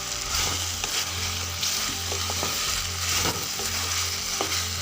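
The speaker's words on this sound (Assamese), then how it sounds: "মাংসৰ দৰে ভাজি থাকিব লাগে" Jackfruit curry frying in a pan as it is stirred, a steady close sizzle with scraping spoon strokes throughout, no talking.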